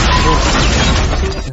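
A loud, harsh gunshot effect from a V998 karaoke soundcard, a blast of noise that rings on for over a second before easing off slightly.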